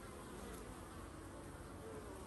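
Honeybees crowd a hive entrance on a November afternoon, foragers carrying pollen inside. Their dense, steady buzzing holds close and continuous throughout, with no voices.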